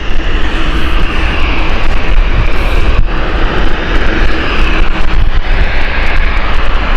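A Boeing 787 airliner at Gatwick Airport roars loudly and steadily as its engines drive it past, a broad continuous rumble with wind buffeting the microphone throughout.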